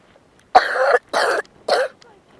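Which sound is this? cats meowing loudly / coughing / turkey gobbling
coughing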